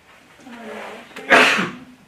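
A single sharp sneeze bursts out loudly and abruptly at a board of education meeting, rising over the low murmur of a person talking in the room before fading back to quieter speech.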